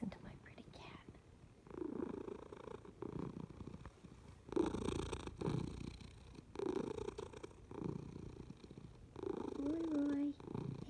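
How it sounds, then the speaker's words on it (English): A cat purrs close by in soft rhythmic rumbles, with a quiet whispering voice and faint squeaky mews mixed in. "And listen to my pretty cat."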